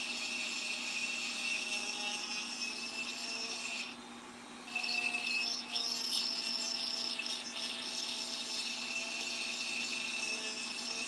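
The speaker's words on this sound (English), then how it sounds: "File it, basically." A soldered metal craft piece is filed by hand to smooth it, giving a steady, close rasping rub that pauses briefly midway before continuing, with no talking.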